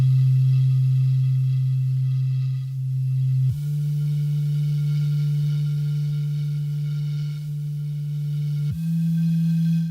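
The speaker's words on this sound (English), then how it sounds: "There you can hear one of the instruments of the Harthian astronauts." A steady, pure electronic tone from a video game's signal scope picking up an alien instrument hums, holding one low pitch, dipping briefly and shifting slightly twice, close and alone with no voices.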